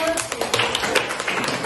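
A school class claps hands together in a short burst of quick, dense applause, close and fairly loud, with a few taps standing out.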